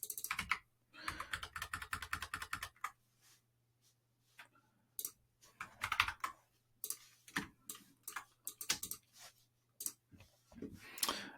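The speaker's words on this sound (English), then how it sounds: "I'll just type in some gibberish for now" Typing on a computer keyboard in quick bursts of clicky keystrokes separated by short pauses, close and clear, with a faint steady hum underneath.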